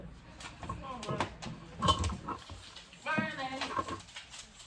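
A dog whimpers and yips in short, high, wavering bursts at an indoor training session, close by and mixed with someone talking over it.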